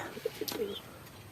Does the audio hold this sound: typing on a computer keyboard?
no